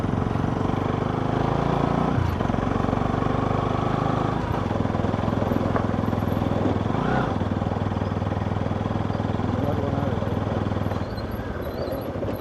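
A motorcycle engine drones steadily during a ride, loud and close, with slight shifts in pitch as the throttle changes.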